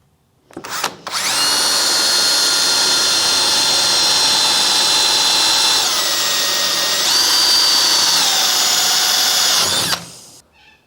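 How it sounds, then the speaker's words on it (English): Hand drill running steadily for about nine seconds while boring out a row of centre punch marks during a car strip-down, a loud continuous whine that shifts pitch slightly partway through, then stops. "So time to fire up the hand drill."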